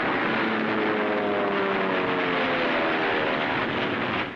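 Warplane engines roar in 1943 Battle of Tarawa combat footage: a loud, continuous propeller-engine drone with a faint pulsing hum, steady throughout and fading slightly at the end.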